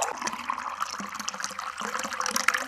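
Water trickles and dribbles in a light, bubbling, irregular flow, close and fairly quiet, with no voices present.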